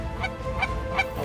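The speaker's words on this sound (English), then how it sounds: "it turned into a snow goose and Ross's goose shoot of note. Instantly, we had flock after flock after flock." Snow geese and Ross's geese honk from flocks passing overhead during an early-season waterfowl hunt in Saskatchewan, with three distinct bursts of high, nasal calls spaced evenly over a steady low background.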